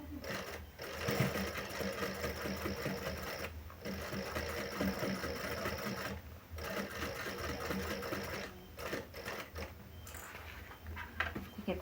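A sewing machine stitches a sling bag at a slow, steady pace, its continuous whirring motor and needle chatter running nearly throughout, with several brief pauses between bursts.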